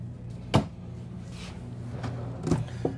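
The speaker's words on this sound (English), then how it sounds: "Full extension drawer glides." Drawers on full-extension glides open and close in the kitchen of a 2023 Newmar Super Star 4065 bunk-bed motorhome, giving a few short knocks and a soft sliding swish over a low steady hum.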